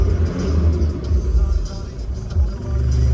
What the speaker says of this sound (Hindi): देखो अभी एक्सेलरेट करूँगा मैं, साउंड सुनो इंजन का कितना ज़्यादा है।